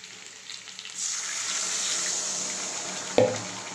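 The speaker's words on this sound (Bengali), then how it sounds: "এবার আমি এর মধ্যে জল দিয়ে দেবো।" Water is poured into a pan of sizzling vegetarian potato curry (aloo dum) cooking in oil, so a steady hiss swells and then holds, broken near the end by a brief sharp clink.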